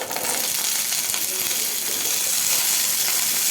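Shallots sizzling steadily in hot oil in a pan while garlic chutney is cooked, a dense close frying hiss with small crackles throughout and no talking.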